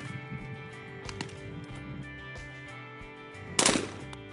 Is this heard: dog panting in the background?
no